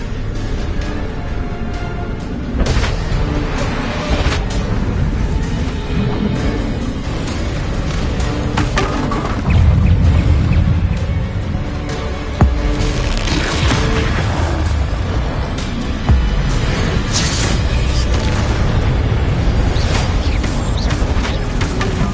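Spell explosions from Confringo and Bombarda blasts in the Hogwarts Legacy video game, a dense run of booming impacts and crackling bursts over a busy, loud combat mix throughout.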